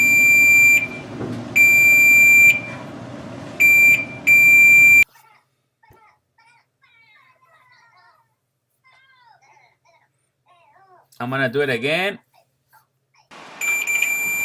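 A steady high-pitched multimeter continuity beep, testing a GE electric dryer's heat element, sounds in several bursts, stops while a person speaks briefly, then returns at the end.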